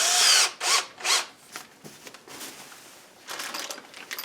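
A power drill with a 7/32 bit bores a pilot hole into a wall stud for a TV wall mount, giving loud whirring bursts that start and stop, followed by lower grinding and a renewed burst.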